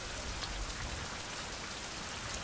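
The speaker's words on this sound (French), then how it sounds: "Ah bah il pleut, évidemment." Steady, dense rain patters with even hiss and no pauses, a continuous wash of drops in a survival video game, fairly faint.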